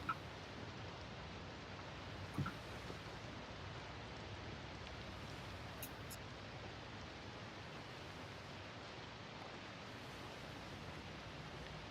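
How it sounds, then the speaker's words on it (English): Steady, faint hiss of rain falling, a soft continuous wash with no voices, broken only by a couple of small clicks near the start. "Don't blame me for the rain."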